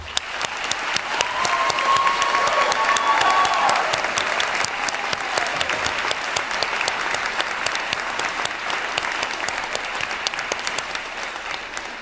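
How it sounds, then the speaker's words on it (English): Sustained enthusiastic applause from graduates' friends and family at the New York School of Interior Design commencement, a dense, even roar of many hands in a large hall, with a faint tone briefly above it. "I'd like to call upon the friends and family of our graduates to please give an enthusiastic round of applause"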